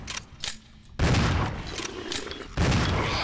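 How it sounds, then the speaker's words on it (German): Shotgun blasts bring down a Hunter enemy in the video game Resident Evil 0, with several loud booming shots over a noisy game backdrop. "drei Schüsse mit der Shotgun, ein Hunter geht down"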